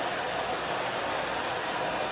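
A blow dryer runs steadily at close range, a constant broadband whoosh of air with no pauses or talk.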